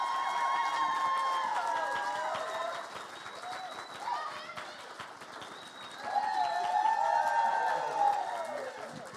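An audience applauds the founding members at the Joy And Fury drag event, a steady round of clapping that fades midway and then swells again with scattered cheers.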